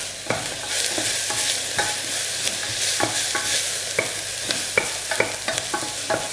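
Onions frying in a pan for stuffed crêpes with tomato sauce, a steady loud sizzle broken by repeated clacking strokes of a utensil stirring against the pan, close and without speech.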